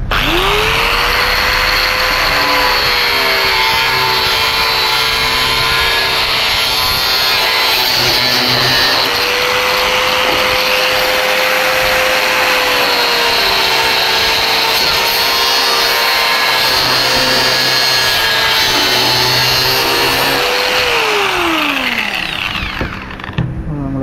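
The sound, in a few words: cutting a fiber piece for a scooter tail tidy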